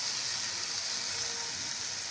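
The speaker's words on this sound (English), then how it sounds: "our meat is cooking" Meat sizzles and fries in a hot pan, a close, steady hiss with no break and no talking over it.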